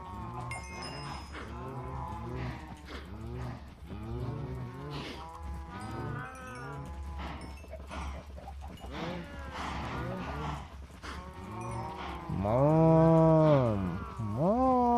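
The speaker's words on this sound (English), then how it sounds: "Hello, cows." Cows lowing in Minecraft, a run of repeated drawn-out moos in close succession, ending with a louder, nearer bellow, while a voice talks faintly underneath.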